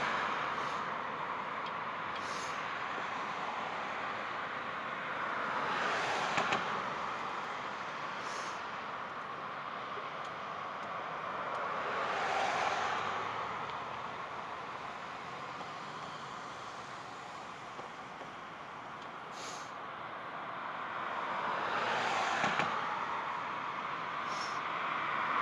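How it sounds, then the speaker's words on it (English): Night road traffic rolls past at a distance, a steady hum with three vehicles swelling in and fading out at intervals of several seconds. "lot of traffic out tonight."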